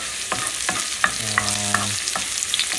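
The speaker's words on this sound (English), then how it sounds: "I put the red onions and ginger and garlic. Just give a little fry there." Red onions, ginger and garlic frying in a pan for goat liver curry, a close, steady sizzle broken by sharp spatula scrapes and clacks about every half second, with a brief tonal hum in the middle.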